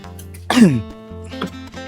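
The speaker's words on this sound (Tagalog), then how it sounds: "Palala yung ubo mo." A single harsh cough, loud and close, breaks a short spell of quiet low background hum.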